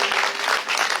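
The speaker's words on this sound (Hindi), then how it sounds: "सब अच्छे बच्चों को तालियां बजाओ आज तो।" A dense wash of audience applause fills the hall for children who have just performed at a Jain Paryushan festival program. The clapping is steady and moderately loud throughout.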